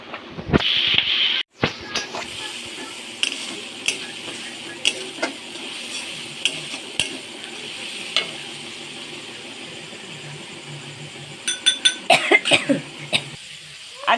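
A little water goes into chili chicken already sizzling in a pan, giving a steady hiss with scattered clinks of stirring. A cluster of sharper crackles and scrapes comes near the end, and a voice speaks briefly.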